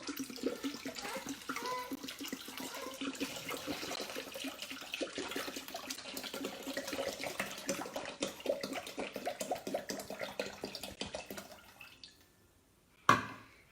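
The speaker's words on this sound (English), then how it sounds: "I'm just going to pop in some water" Water pours steadily from a tap into a container, about a litre over twelve seconds, then stops, followed by a single sharp clunk.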